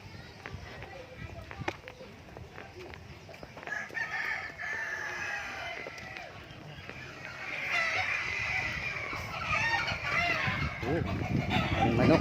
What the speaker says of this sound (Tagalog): Ang manok, guys.